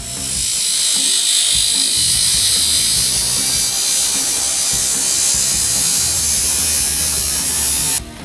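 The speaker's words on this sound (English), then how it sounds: "Thank goodness for the OP tyre truer I made last season." A loud, continuous high-pitched motor whine with a gritty grinding edge from a tyre truer trimming RC car tyres, steady for about eight seconds before dropping off at the end, close up.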